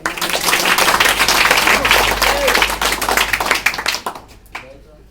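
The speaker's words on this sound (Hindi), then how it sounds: "एक बार सर की ताली बजा दीजिए।" Audience in a motivational class for young students breaks into loud, dense clapping for the teacher, sustained for several seconds before thinning out and fading at the end.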